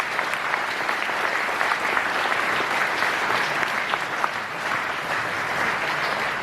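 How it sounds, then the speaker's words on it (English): Big audience at a cancer fundraising gala gives a steady, sustained round of applause, dense and even throughout with no voices standing out. "Big, huge round of applause for them."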